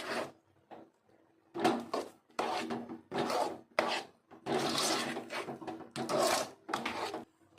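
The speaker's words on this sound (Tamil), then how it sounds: "சர்க்கரையை இப்போ நல்லா கிண்டி விட்டுக்கலாம்" Moong dal halwa being stirred with sugar in a pan, giving repeated scraping and rasping strokes in an irregular rhythm, close and fairly loud, with short pauses between bursts.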